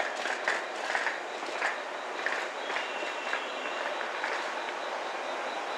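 Station ambience around a Japanese Series 117 train on the Kibi (Momotaro) line between Fukuyama and Yura, a steady diffuse rumble with faint mechanical hum and soft clatter, moderately quiet and continuous, no voices.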